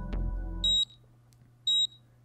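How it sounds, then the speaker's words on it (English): Two short, bright electronic beeps from a PDA in the video game 428 Shibuya Scramble, evenly spaced about a second apart, following a brief low thud at the start over a faint steady hum. "A tiny beeping sound caught Kano's attention."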